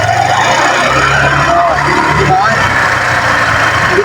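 A Suzuki Skydrive scooter engine with a factory-defect drive pulley set hums and revs steadily close by, a continuous loud drone with mild throttle swells, as someone talks over it.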